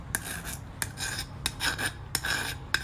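A hand file drawn along the blade edge of bypass garden pruners, heard as several close, rhythmic rasping strokes, each a short scrape with a sharp start, repeated about every half second.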